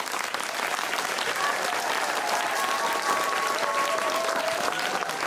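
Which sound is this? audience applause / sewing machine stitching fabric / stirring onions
audience applause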